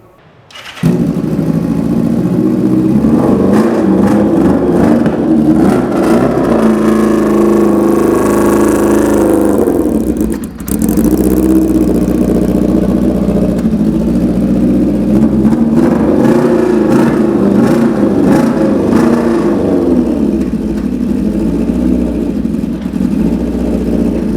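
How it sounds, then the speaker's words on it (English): A Kawasaki Zephyr 750 custom motorcycle starts and idles with a loud, throaty exhaust rumble, revving up and down, briefly cutting out midway before running again. "start it up now so you can hear what a really loud exhaust pipe is like"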